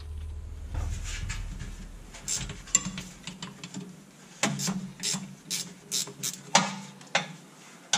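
Bottom bolts being loosened on the rear axle of a 2016 Jeep JK with a ratchet, a series of quick metallic ratcheting clicks in short bursts with brief pauses between.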